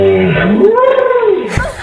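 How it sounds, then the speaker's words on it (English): Trumpeting elephant-like animal call, a single loud sweeping tonal cry rising and falling, ending with a brief burst of noise, heard alone and close. "Gotta love the elephant sounds."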